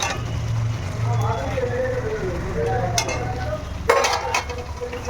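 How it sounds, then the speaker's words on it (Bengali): Fried paneer is stirred gently into biryani gravy in a pan, with a soft scraping stir over a low sizzle and a couple of sharper utensil knocks against the pan near the end. "পনিরটা এবারে এর মধ্যে দিয়েছি হালকা করে একটু হালকা হাতে একটু নেড়ে নেব"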